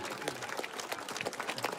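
Faint crowd applause at a campaign meeting with voters in Czeladź, Poland, a steady low wash of distant clapping throughout with no clear individual claps.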